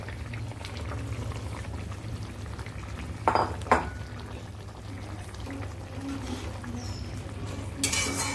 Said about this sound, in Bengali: ঝোলটা ফুটে উঠেছে এবার মাছগুলো দিয়ে দেবো এর ভেতরে